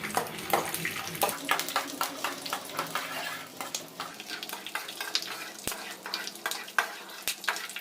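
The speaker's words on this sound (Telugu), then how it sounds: "నూనె వేడైంది కదా, గిట్లా వేసుకొని ఫ్రై చేసుకోవాలి." Something fries in hot oil on a low flame while making lemon rice, a close, continuous sizzle broken by repeated stirring scrapes and small clinks of a utensil against the pan.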